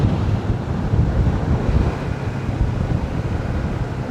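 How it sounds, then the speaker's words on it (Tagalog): Strong wind gusting over a mountain highland along the Tagaytay–Calamba route, a steady, loud, low buffeting roar battering the microphone throughout with no talk. "Oh, lakas ng hangin."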